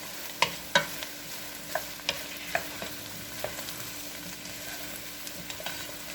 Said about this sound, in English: we are going to throw in our mushrooms. And give it a good mixing up